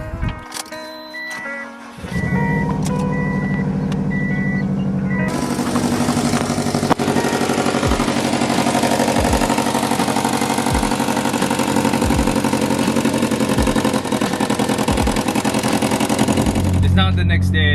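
A Mitsubishi Evo making about 400 wheel horsepower starts up after work on its intercooler and exhaust, then settles into a loud, steady running drone with periodic low thumps, close by.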